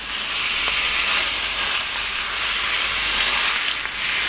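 Steak fries in a hot pan with a loud, continuous sizzling hiss that rises and falls slightly as the meat is moved around.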